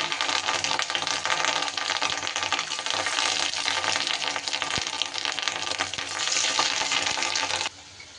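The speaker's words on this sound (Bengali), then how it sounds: "এইভাবে আমি বড়ার আকারে সমস্ত মাছের ডিমটা কিন্তু আমি ভাজা করে নেব" Fish roe fritters dropped into hot oil in a wok, a loud close crackling sizzle that continues steadily and then drops abruptly to a quieter hiss near the end.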